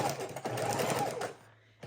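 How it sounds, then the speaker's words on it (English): A sewing machine runs a long zigzag stitch down one edge of a clear pocket, making a quick, fast burst of mechanical stitching that is close and fairly loud, then stops abruptly. "I'm going to put it on a zigzag stitch, very long length, but short, maybe a 2. And we're going to sew down one edge"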